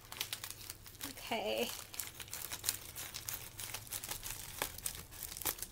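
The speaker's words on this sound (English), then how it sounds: "I can never pull this to open it, so I have to use the scissors." Scissors cut open a crinkly plastic package holding a Star Wars T-shirt, with repeated close crackling and crumpling rustles and a short spoken word partway through.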